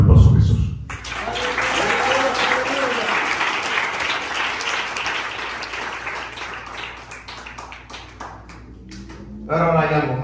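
A church congregation in Michigan breaks into sustained applause, a dense, loud wash of many hands clapping for several seconds, with a voice briefly heard at the start and again as it fades.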